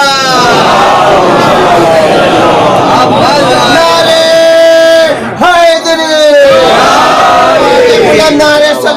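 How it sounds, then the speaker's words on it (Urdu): A mosque congregation at a Shia majlis loudly chants salawat together, several swelling unison chants of many voices, near and forceful, with brief pauses between phrases. "بلند نعرے سلوات"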